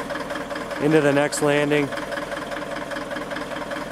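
A bulldozer engine idles with a steady low rumble throughout, while someone talks briefly over it in the first half.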